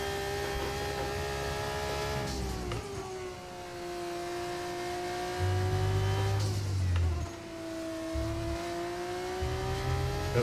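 Formula 2 race car in the F1 24 video game, a steady high engine whine that drops at two gear changes and climbs again, loud and continuous with no talking.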